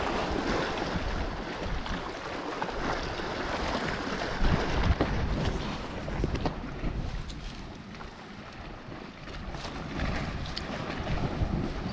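Steady, strong breeze buffets the microphone out on a fishing boat at sea on Christmas Eve, a continuous roar of wind noise with water movement beneath and no speech.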